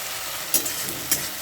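Ginger-garlic paste fries in a pan for a spicy ghugni, giving a steady close sizzle with two brief sharp stirring scrapes.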